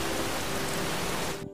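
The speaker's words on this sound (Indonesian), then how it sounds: "Tiba-tiba turun hujan." Steady rain pouring down in a film scene, a dense even hiss that fills the whole stretch and cuts off abruptly near the end.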